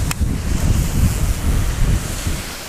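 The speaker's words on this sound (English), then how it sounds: "it's cold and windy out here" Strong, cold gusts of wind buffet the microphone outdoors by a pond with a constant low rumble and roar, no voices heard.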